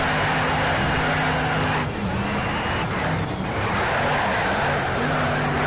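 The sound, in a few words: Dodge Challenger engine with nitrous, NFS: Shift video game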